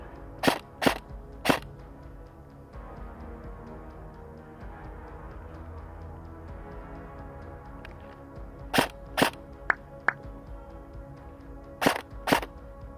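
Sharp, loud gunshots in an old film ring out in spaced clusters: three quick cracks early, then a long quiet stretch, then a flurry of several shots and a final pair, over a faint low background.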